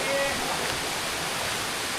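A waterfall in Miagao, Iloilo, gives a steady broadband rush of falling water that runs unbroken through the short stretch, fairly close and even in level.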